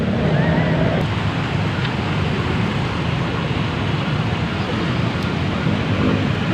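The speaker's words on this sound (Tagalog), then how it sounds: "Hala, grabe yung lakas ng tubig, ang lalim." Strong floodwater rushes down a street after heavy rain, a steady, loud broadband roar of churning water with wave-like surging, continuous throughout with no clear talk over it.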